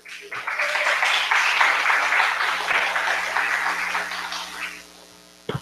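Audience applause at a Black liberation resistance rally, a sustained wash of clapping that swells quickly, holds steady for several seconds, then fades out near the end.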